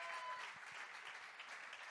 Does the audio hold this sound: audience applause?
yes